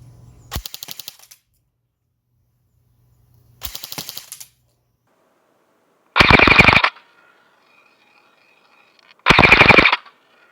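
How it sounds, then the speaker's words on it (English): A Nerf-style toy blaster fires in full auto from 40 feet, in four short bursts of rapid clicking shots separated by quiet gaps, the last two louder and harsher. "Now I'm at 40 feet and I'm going to shoot in full auto."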